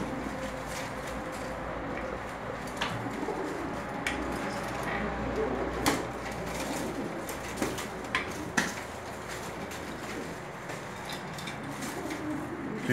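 Pigeons cooing during a fight, a continuous low murmur under steady background noise, with sharp clicks and flutters scattered throughout at moderate volume.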